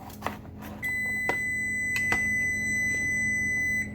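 An oven finishes preheating and gives a steady, high electronic beep. It sounds close and holds for about three seconds, after a few faint kitchen clicks.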